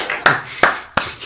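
Three sharp, close hand claps at a slow, even pace, each a crisp isolated crack with short silence between.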